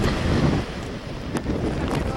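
Strong typhoon wind gusts in Guangdong province buffet the microphone as a loud, rough roar, surging and easing slightly over a couple of seconds.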